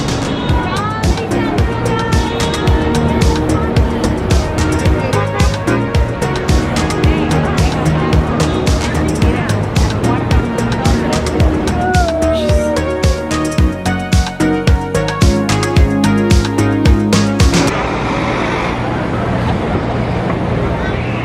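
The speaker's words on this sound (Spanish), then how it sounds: "Tráfico, gente corriendo, coches tocando el claxon" Busy street traffic in Times Square, New York, a loud continuous wash of engines and crowd noise with scattered horn tones, under music and a voice speaking.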